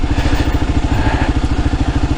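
A 2022 Kawasaki KLR adventure motorcycle is ridden on the road, its single-cylinder engine thumping in a steady, rapid, pulsing rhythm, loud and close throughout.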